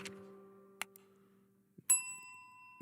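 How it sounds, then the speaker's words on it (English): A bell rings in three separate strikes, each a bright metallic ding with a long ringing tail, the last one loudest and closest, set against near silence. "Nice, get the bell going."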